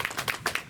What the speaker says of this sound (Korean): 우리 그 수고하신 분들 감사하다는 뜻에서 박수하겠습니다